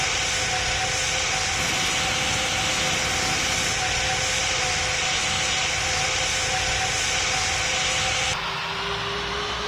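Boeing 787 jet engines in a video game roar loudly and steadily as the airliner takes off from a building, a continuous whine and rumble that shifts tone near the end.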